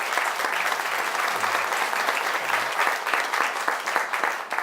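An audience applauds steadily to welcome political writer and historian David Marquand at his book launch for Mammon's Kingdom, the clapping dense and sustained throughout without pause.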